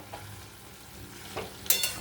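Beetroot frying in a pan while being stirred with a spatula, a low sizzle broken by a few scraping stirs that grow louder toward the end.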